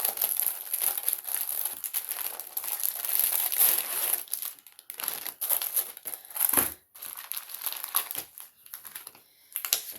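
Plastic packaging on a diamond painting kit crinkles and tears as it is unwrapped up close, with steady rustling that pauses briefly and then resumes in bursts.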